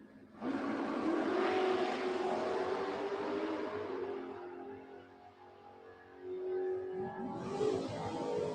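Dragsters launch at a Gainesville Raceway ET series race, their engines roaring away down the strip and fading as they pull off. A fresh engine roar rises again near the end, fairly distant.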